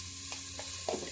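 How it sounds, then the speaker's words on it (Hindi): Bottle gourd frying and being stirred in a pan for moong dal, a steady sizzle with a few scraping stirs close by. "अब इसको हम थोड़ा फ्राई कर देते हैं।"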